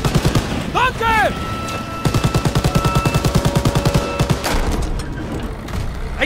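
Rapid automatic gunfire from Call of Duty WW2 during a World War II train assault, bursts of close, loud shots rattling in fast rhythm with shouted voices and a rising whistling effect early on.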